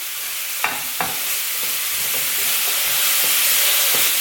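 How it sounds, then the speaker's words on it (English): Sautéed mushrooms with gorgonzola stirred in a hot pan, a loud continuous sizzle with a couple of sharp spoon knocks near the start and soft scraping strokes, close up with no voices. "Just mix it a little bit more."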